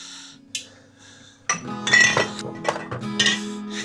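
Frying pan clinking and scraping on a gas stove burner, a couple of sharp metallic knocks followed by a busier run of rattles and clatter, close and fairly loud, no talk.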